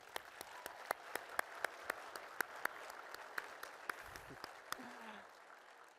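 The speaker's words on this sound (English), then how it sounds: "let's give you a round of applause" An audience at the SkillsUSA Michigan opening session gives a round of applause in a large hall. Sharp individual claps stand out over a steady, fairly distant wash of clapping that fades toward the end, with a voice briefly audible underneath.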